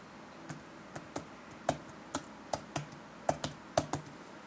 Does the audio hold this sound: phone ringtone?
no